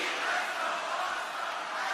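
Crowd at a WWE wrestling arena cheering and roaring, a dense, loud, continuous wash of many voices filling the space.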